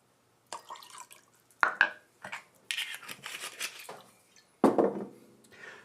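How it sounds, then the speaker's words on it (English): Two ounces of sweet vermouth are poured into a glass for a cocktail. Brief liquid splashes and drips mix with a few sharp glass clinks, close up and in separate bursts. "Next up is sweet vermouth. I need 2 ounces. Right in our glass."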